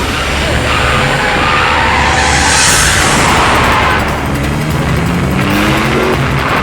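Car racing fast through a chase in a South Indian action film, engine roaring loud and continuous with whooshing passes and booming impacts over a dense score, no clear speech.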